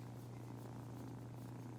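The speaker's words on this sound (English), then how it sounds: "Can you hear that? They're purring." Cats purring very close, a steady low rumbling hum that continues without a break and without voices.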